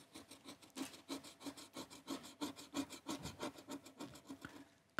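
A Triss scratch lottery ticket is scratched in quick, rhythmic rasping strokes, close and quiet, with no talk.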